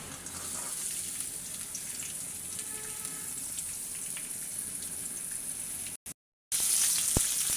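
Garlic frying in oil in a pan, a soft continuous sizzle heard close, with a brief dropout near the end followed by a sharp click.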